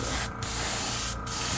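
An airbrush sprays paint onto a crankbait fishing lure, a steady close hiss with two brief breaks where the trigger is released.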